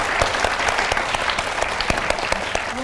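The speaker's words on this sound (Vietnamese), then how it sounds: "Cái tiếng vỗ tay như vậy đó là một cái sự ủng hộ." A studio audience applauds steadily, dense clapping at close range throughout with no other sound standing out.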